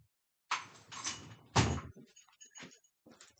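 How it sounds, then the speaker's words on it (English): An indoor door is pushed shut with a rattling slide and a firm thud, followed by a few lighter clicks and knocks as it settles, close and fairly quiet with no talking. "guess I'll close the door"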